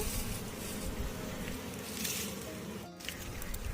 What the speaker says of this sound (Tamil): புகை போட போட தேனியெல்லாம் வெளியே வரும்போது தேன் நல்லாவே நம்மளுக்கு கிடைக்குது